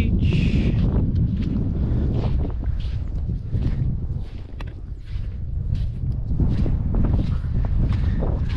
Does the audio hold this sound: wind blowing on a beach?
yes